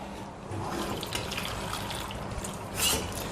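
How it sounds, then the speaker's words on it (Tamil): Water pours steadily into a cooking pot of vegetables for sambar for a few seconds with a continuous splashing rush, close by and fairly quiet. "கொஞ்சம் தண்ணி ஊற்றி வேக வச்சிடலாம்"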